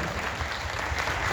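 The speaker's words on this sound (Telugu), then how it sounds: "ఒకసారి గట్టిగా చప్పట్లు కొట్టాలి" An audience at a Warangal folk artists' event clapping loudly, a dense continuous wash of applause, steady and fairly close.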